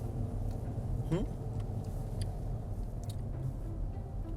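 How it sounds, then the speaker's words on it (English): A car rolling along close behind on a road, its steady mid-pitched engine rumble and tyre noise running continuously at moderate level, with a brief rising whine partway through. "Is that Tyler in the car behind us?"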